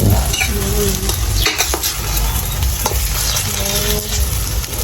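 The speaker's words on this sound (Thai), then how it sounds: "ทอดไข่งงามเลยครับ" Eggs fry in a pan with a steady, close sizzle throughout, broken by scraping stirs and light utensil taps against the pan, and no talk over it.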